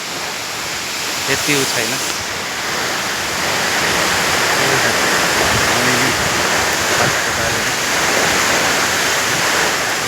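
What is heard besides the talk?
flowing water of a stream near a waterfall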